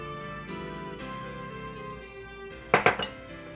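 Eggs and milk mixed in a bowl with a utensil, a few sharp clinking knocks near the end against a steady background.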